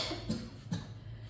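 A person with a cold gives two short, soft coughs close by, spaced about half a second apart, in a quiet kitchen.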